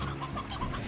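Hens clucking in the farming video game Slime Rancher, a busy overlapping flock of short, chattering calls sounding steadily close up with no gaps.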